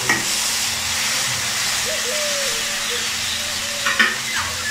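A tomato and spice masala for restaurant-style egg curry sizzles steadily in a pan while being stirred, giving a constant frying hiss with a few clattering scrapes near the end and faint background hum.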